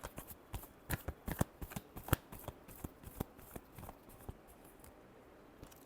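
Tarot cards shuffled by hand in a quiet room, a rapid run of crisp riffling snaps and flicks that thin out toward the end, with no voices.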